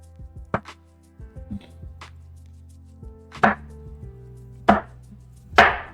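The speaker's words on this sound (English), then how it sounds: "We're going to fry this potato first" A knife chops a potato into thin slices on a cutting board, several sharp isolated knocks spaced unevenly, with a few louder strikes toward the end and no voices.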